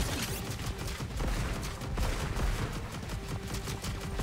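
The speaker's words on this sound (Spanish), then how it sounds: "Los tiros están chiditos." Rapid gunfire in a Contra game, dense volleys of shots crackling continuously and loudly over game music, with no talk.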